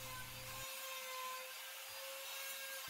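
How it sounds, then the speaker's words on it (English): Alder wood sanded by hand with 100 grit sandpaper for a custom barn door, a continuous close, dry hiss of abrasive rubbing, steady and unbroken throughout. "And Ryan is using 100 grit sandpaper for this purpose"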